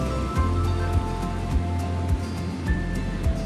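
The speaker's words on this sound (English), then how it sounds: "That water did not soak into the roof, but it ran off." Water poured over a small model roof at a school rain garden demonstration runs off the surface in a steady splashing trickle, with soft repeated thumps underneath and no speech.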